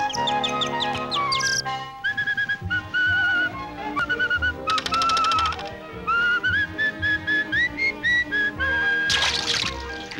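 A cartoon character whistles a lively, bird-like melody of quick trills, rising slides and short chirping notes in uneven bursts, loud and close, with brief pauses between phrases.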